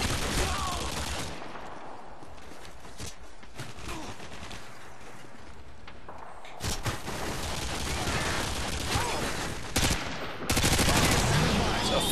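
Gunfire from Modern Warfare 2 video game combat, with dense bursts of shots and a loud sustained volley toward the end, mixed with game effects.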